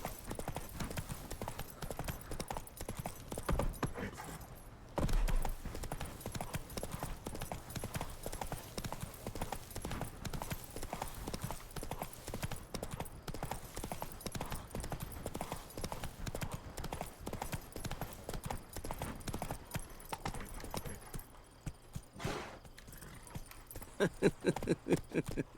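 Roach, a horse in The Witcher 3, gallops with rhythmic, continuous hoof clip-clops, moderately near, with a brief pause partway and faint game ambience underneath.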